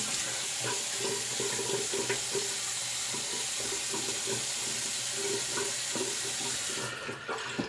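Water runs steadily from a tap to rinse a double-edged razor blade, a constant close splashing rush that eases off near the end.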